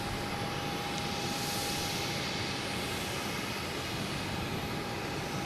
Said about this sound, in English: I've got Lufthansa A380 on 1-5, right, just about ready to line up.